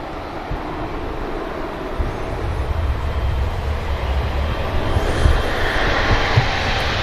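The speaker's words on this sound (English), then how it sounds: "There goes the E2 flying on behalf of Swiss" Swiss Embraer E2 jet taking off from runway 23 left at Manchester Airport, a steady broad roar of engines building slowly through the clip, fairly loud and unbroken.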